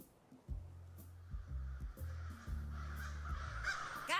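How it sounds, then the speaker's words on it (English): Crows caw repeatedly in the adventure game 3 Minutes to Midnight, a series of loud, harsh, close calls in quick succession over a faint ambient background. "Goddamn crows!"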